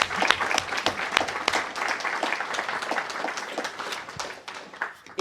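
Audience at a French political meeting on housing and gentrification applauds steadily for about five seconds, dense sustained clapping with no talk over it.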